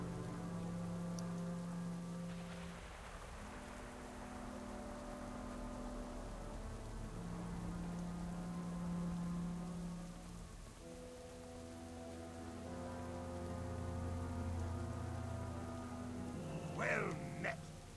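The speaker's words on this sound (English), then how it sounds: "Pretty consistent rain tonight" Steady rain hisses continuously in World of Warcraft's Loch Modan, with low droning music underneath, the downpour even and unbroken throughout.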